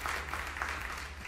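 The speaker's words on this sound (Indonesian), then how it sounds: "Tepuk tangan yang meriah untuk kemuliaan nama Tuhan" A church congregation applauds in a steady, dense patter of clapping, heard at a moderate level and continuing without a break.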